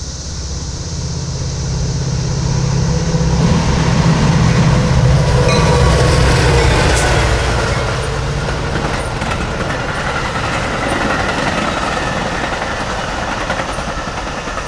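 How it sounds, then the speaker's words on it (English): An outbound Metra commuter train pulls into Lisle station, a loud continuous rumble of rolling wheels and rail noise with a low engine drone that swells, then holds steady as cars pass close by. "Metra train pulling into Lyle Station outbound"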